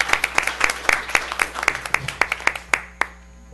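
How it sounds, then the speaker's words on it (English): Sparse applause from a small town council meeting audience, a handful of separate sharp claps ringing out in an uneven rhythm for a few seconds before thinning to a final couple of claps. "let's give him a round of applause as well"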